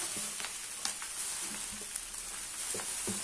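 Soaked rice vermicelli tossed and stir-fried in a pan with wilted cabbage and yellow spice paste, a soft steady sizzle broken by scattered scrapes and clinks of the spatula.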